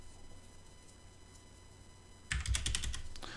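Computer keyboard typing during a Creo 3.0 CAD modeling session: a quiet stretch, then a burst of several quick, close keystrokes over a faint steady hum.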